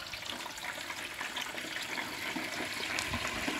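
A turkey being lowered into hot oil in a deep fryer gives a steady, loud wash of hissing and bubbling sizzle that holds without a break and has no voices over it.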